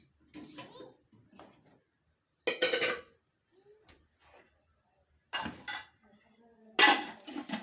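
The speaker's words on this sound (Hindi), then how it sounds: "तो अब मैं फाइनली बर्तन धो रही हूँ।" Dishes, pots and utensils are washed by hand in a home kitchen, with short scattered bursts of metal clatter and clinks separated by quiet gaps, fairly close.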